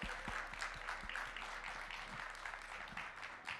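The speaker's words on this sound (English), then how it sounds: "Give him a round of applause." Crowd applause at a live finals event in Las Vegas, steady clapping from an audience filling the room for several seconds with no voices over it.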